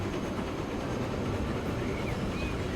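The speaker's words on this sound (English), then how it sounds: "I am going to ride with this train all the way down." Train rolling along the line in the video game Transport Fever 2, heard from a first-person ride: a steady, continuous low rumble of wheels and carriage noise throughout, with no talk over it.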